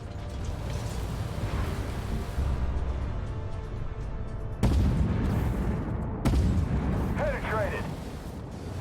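A tank cannon in the video game Armored Warfare fires at a T-72A; two sharp, loud booms cut through rumbling battle noise, followed by game voice callouts and talking throughout.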